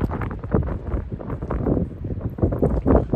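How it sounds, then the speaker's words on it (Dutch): Strong wind buffets the microphone in loud, continuous gusts with rumbling low-end roar, rising and falling throughout, outdoors at a campsite in Gammelstad, Sweden. "veel wind vandaag, dat hoor je wel denk ik."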